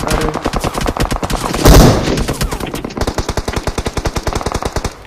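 Rapid automatic gunfire from a battle royale video game, with dense bursts of shots in quick rhythmic succession and a heavier blast midway, loud and close with no talking.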